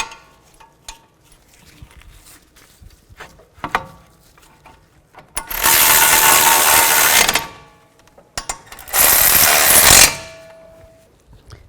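Wheel hub bolts are started on a 2007-16 GMC Acadia: close, loud bursts of whirring power-tool noise, two of them separated by a short pause, between quieter scattered mechanical clicks and knocks.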